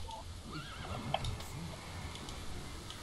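A horse in the video game World of Warcraft gives a clear whinnying neigh that rises and falls, followed by faint hoof clops and soft game ambience.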